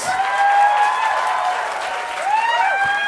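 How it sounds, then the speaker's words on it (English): A convention panel audience applauds guests leaving the stage with loud, sustained clapping and crowd noise, with whistles or tonal music sweeping over it throughout. "Please give them a round of applause as they exit the stage."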